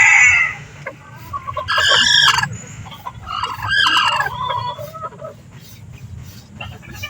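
Hens and bantam chickens squabble over a nesting box, their clucks and squawks coming in loud, close bursts that rise and fall with a steady low farmyard hum beneath.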